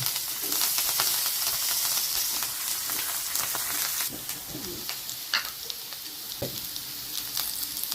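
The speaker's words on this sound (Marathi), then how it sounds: "हे लसूण एवढा कढीपत्ता चांगलं तळू द्यायचे" Garlic and a handful of curry leaves sizzle steadily in hot oil for a dry bhindi (okra) sabzi, a dense close crackling hiss with occasional sharper pops and faint stirring, no talk.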